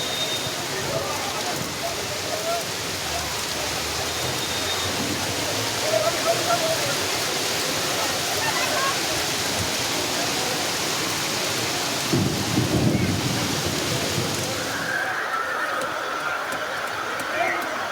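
Heavy downpour roars steadily and close, a dense continuous wash of rain with low rumbles of thunder swelling underneath, no voices over it.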